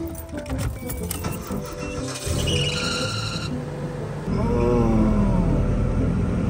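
An engine cranks unevenly, stumbling and sputtering before catching into a rough, loud idle with a rising whine; close by, no speech.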